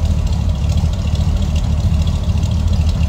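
A 1974 Chevrolet C10 Cheyenne Super with a 454 V8 and dual exhaust idles in a steady, loud, low rumble close by, with an even throbbing pulse and no talk.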